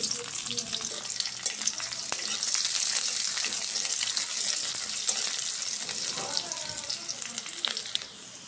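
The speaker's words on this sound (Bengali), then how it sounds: "রসুন পেঁয়াজ মরিচ ভাজা হয়ে গেছে শাকটি দিয়ে দিব" Garlic, onion and chili fry in oil in a pan, giving a steady, loud sizzle that runs without a break from start to finish, with occasional scraping from stirring and no speech over it.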